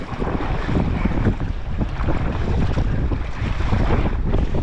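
Strong wind roars across the microphone while sea waves slosh and surge around a sea kayak on the open coast near Sundsvall, a loud continuous rush with no voices.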